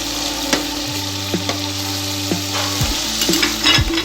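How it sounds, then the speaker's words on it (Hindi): Chicken for haleem cooks in a pan with a steady, close sizzle and frying hiss, broken by occasional scrapes and clinks of stirring. A constant low hum runs underneath, and no one speaks. "तो हमारे चिकन को पकते हुए 2 से 3 मिनट हो गए।"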